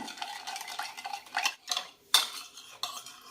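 Sugar is mixed by hand into a bun dough of fresh yeast in a bowl, with a spoon scraping and clinking against the bowl in uneven strokes and a sharper knock near the end, close and moderately loud with no talking.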